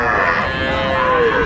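A cow and her young male calf at a busy cattle market in Aftabganj, Dinajpur, with a loud, drawn-out moo that fills the clip while voices murmur in the background.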